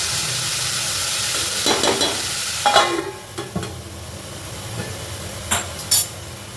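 Thickly cut onions sizzle and fry steadily in hot oil, with a few sharp stirring scrapes of a spoon against the pan.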